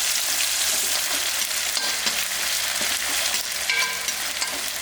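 Capsicum frying in a pan for a spiced side-dish fry, with a steady loud sizzle and occasional stirring scrapes running throughout without pause.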